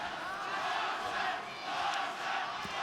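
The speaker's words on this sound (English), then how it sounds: "the majority of the crowd is on their feet and the chant of Loma has gone up here in New York" Boxing crowd in New York chanting "Loma" for Lomachenko, a dense, sustained roar of many voices swelling and rising in waves, distant and enveloping.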